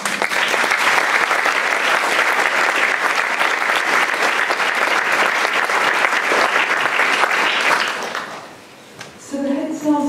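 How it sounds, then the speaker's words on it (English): A hall full of school speech-day audience members applauds loudly and steadily for about eight seconds, the clapping then fading out and giving way to a voice. "you should give yourself a round of applause"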